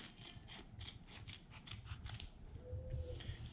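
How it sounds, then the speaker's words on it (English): Scissors roughly trimming apart sheets of pre-cut decals for a FlightSketch Shark model rocket, a run of soft, close, repeated snipping and rubbing strokes heard alone at low volume. "you can cut them apart, and again, they're pre-cut, so we just have to do a rough trim around where the tape is"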